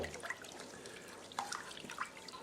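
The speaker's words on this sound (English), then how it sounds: "I usually do it in the sink under hot water" Rice being rinsed in a kitchen sink under running hot tap water: faint splashing and dripping with a few small sharp splashes, quiet and close.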